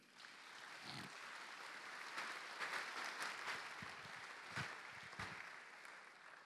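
Church congregation applauding during a French-language Sunday service, a steady, fairly faint wash of clapping that carries on through the whole stretch with no voices over it.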